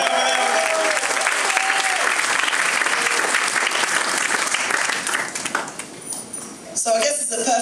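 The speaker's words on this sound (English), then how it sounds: "give them a big round of applause, the newlyweds!" Loud, steady applause from wedding reception guests greets the newlyweds, a thick wash of clapping and crowd noise that thins near the end before a final swell.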